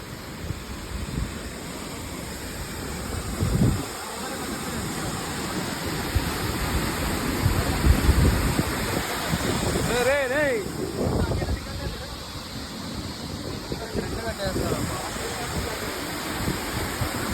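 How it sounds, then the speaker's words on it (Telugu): Powerful waterfall in Kerala, pouring hard as a steady broadband roar that fills the whole scene, with wind buffeting the microphone and brief voices passing over it. "ఆ వాటర్ ఫాల్స్ సౌండ్ అయితే చూడండి మీరే."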